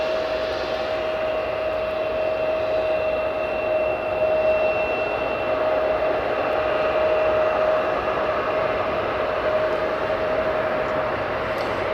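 A Freebird Airbus A320 taxiing at Newcastle Airport, heard as a steady, continuous jet engine roar with a sustained high whine, constant in loudness throughout and without any speech.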